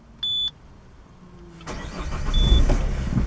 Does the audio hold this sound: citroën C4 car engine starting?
yes